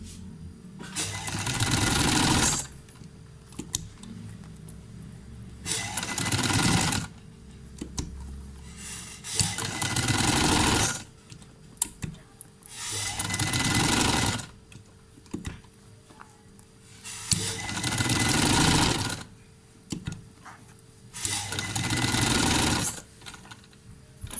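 A sewing machine stitches a Capri trouser hem in repeated bursts of fast, rattling needle action, each lasting a second or two and separated by quieter pauses with faint handling sounds.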